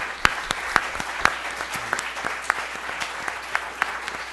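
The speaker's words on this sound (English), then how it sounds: "Let's give them all a round of applause" Scattered applause from the audience at a college federal election debate, with distinct individual claps standing out sharply over a softer bed of clapping.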